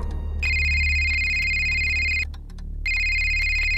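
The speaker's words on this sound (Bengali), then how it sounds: "আবার ফোন করে অর্ক।" A phone ringtone rings loudly and steadily within a Bengali horror audio drama. It stops briefly, then starts again in a second burst.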